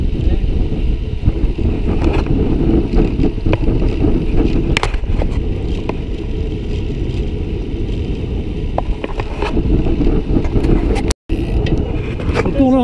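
Steady wind roars against the microphone while cycling into a headwind in a group during a Tour de France stage, with rolling road noise and occasional rattles, no clear talk.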